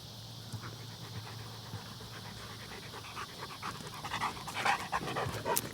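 Puppies panting rapidly and steadily close by, a soft rhythmic huffing that grows a little louder and busier toward the end, with no talking.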